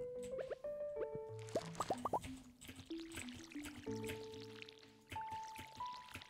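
Watering crops with a watering can in a farming video game: a run of bright watery plops and drips, each paired with short pitched chime tones, repeating in quick succession.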